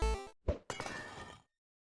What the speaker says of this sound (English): the item axe scrape sound effect, because it really just sounds correct